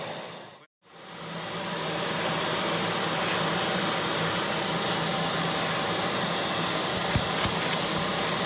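Steady loud suction roar of a bee vacuum during removal of bee colonies from an old derelict pub, starting after a brief dropout and running evenly throughout, with no talk.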